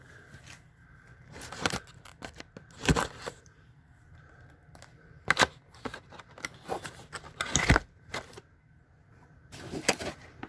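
A knife cuts open the cardboard packaging of a computer keyboard box in a series of sharp, close scraping and tearing bursts separated by quiet pauses.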